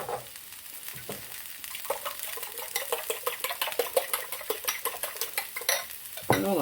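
Hot vegetables being stirred into beaten egg in a sloped pan for a Spanish omelette, with a steady run of close, crisp scraping and clinking taps over a soft sizzle, growing busier toward the end.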